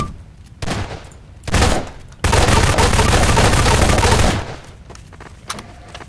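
Gunfire in the Prop Hunt video game comes in loud bursts: two short volleys, then a sustained rapid fusillade lasting about two seconds before it cuts off, with faint game background afterward.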